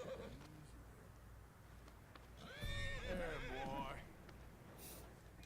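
Close whinny from a horse in the video game Red Dead Redemption 2, a long quavering neigh in the middle with light hoof shuffles and faint speech at the start.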